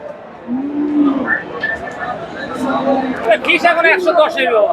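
Friesian heifer cattle at a busy cattle market in Bogura, with a drawn-out low moo and a second shorter moo rising over steady crowd chatter, while nearby voices talk throughout.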